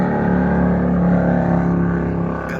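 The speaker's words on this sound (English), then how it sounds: "Love loud motorcycles." A loud, close motorcycle engine growls and rumbles steadily, holding a deep throaty idle with a slight rev.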